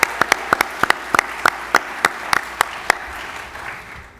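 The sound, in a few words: audience applause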